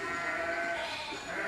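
Ewes on a sheep farm bleat in a soft, mid-distance chorus, several overlapping calls blending into a steady, wavering drone.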